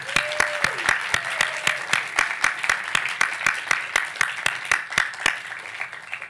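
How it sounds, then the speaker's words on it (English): An audience bursts into loud, sustained applause, with sharp, regular claps standing out in a steady rhythm over the broader wash of clapping for the whole stretch. "a round of applause for these folks."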